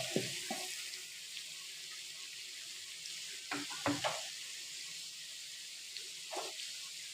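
Something fries quietly in a pan with a faint steady sizzle, interrupted by a few soft clunks and stirring scrapes; no talking.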